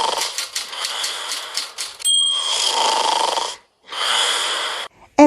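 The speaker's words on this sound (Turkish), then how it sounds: "sesten de anlayacağınız üzere horlayanı bulmamız isteniyor" A video game character snores in a puzzle scene, breathy rasping snore sounds in long repeated stretches with brief gaps, loud and close with no talk over them.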